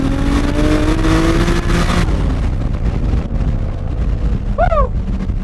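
A 2JZ-powered Toyota Chaser sedan accelerates hard, its induction roar and exhaust note rising in pitch for about two seconds before settling into a steady, loud engine drone with a brief tire or whine chirp near the end.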